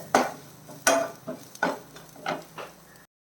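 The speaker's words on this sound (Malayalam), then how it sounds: "ഇത്രയും ചേർത്തിട്ട് ഈ പൊടികളുടെ പച്ചമണം മാറുന്നവരെ നമുക്കൊന്ന് ഇളക്കി കൊടുക്കാം." Chili and coriander powder stirred in a pan for egg curry, about half a dozen distinct scraping strokes of a spoon in an uneven rhythm over a quiet sizzle, close and clear, then silence.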